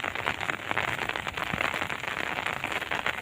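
Rain falls steadily by a river where a man nets fish, a close, continuous patter of drops on surfaces with no talking.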